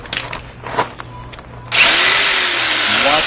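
After a few quiet knocks and handling sounds, a reciprocating saw roars to life and cuts loudly and steadily through plastic mobile home skirting.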